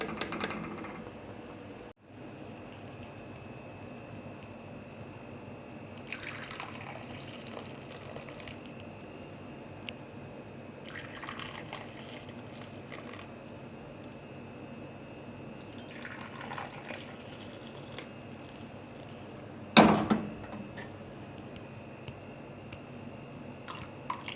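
Kashmiri pink tea simmers and bubbles in a pot on the stove, a low, steady liquid burble with faint drips and one brief louder knock near the end, and no voices.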